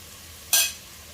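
Fennel seeds drop into a pan of beef heart roasting Kerala style, setting off a single short burst of sizzling that flares quickly and fades within a fraction of a second against a quiet background.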